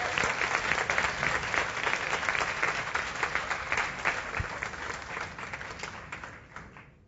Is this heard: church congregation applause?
yes